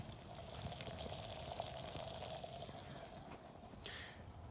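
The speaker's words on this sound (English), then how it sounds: "Hear that? It's boiling." Water boils inside a cheap wide-mouth single-walled stainless steel bottle, giving a faint, continuous bubbling hiss with small pops and a brief brighter fizz near the end.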